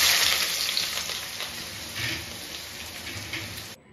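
Onion frying in hot oil, a bright crackling sizzle that starts loud and gradually settles with small surges, cutting off abruptly at the end; no talking.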